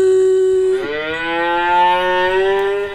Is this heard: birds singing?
no